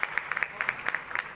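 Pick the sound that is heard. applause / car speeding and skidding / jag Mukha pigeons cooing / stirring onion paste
applause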